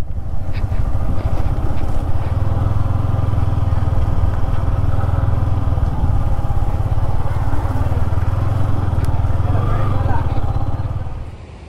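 A motorcycle engine runs near the trek start to Mallalli waterfalls, a loud, steady throbbing rumble for around eleven seconds that fades at the end, with someone talking over it.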